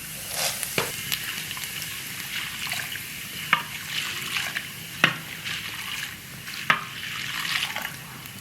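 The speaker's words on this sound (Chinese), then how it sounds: "花椒炸一炸，舀出来。" Sichuan peppercorns fry in hot oil in a wok, giving a steady soft sizzle with occasional sharp clinks of a utensil against the pan, heard close, with no speech.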